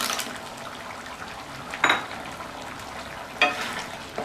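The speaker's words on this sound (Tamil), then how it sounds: "சேர்த்துட்டு நல்லா மிக்ஸ் பண்ணி விட்டுறலாம்." Appalam being stirred into a simmering coconut and poppy seed kootu, with a soft steady bubbling and sizzle and two brief scraping clatters of a spoon against the pot.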